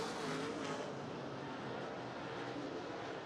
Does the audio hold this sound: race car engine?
yes